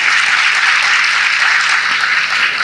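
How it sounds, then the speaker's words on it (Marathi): An audience claps together in steady, dense applause that holds at an even, loud level for the whole stretch, with no voices standing out. "आता टाळ्या वाजवा."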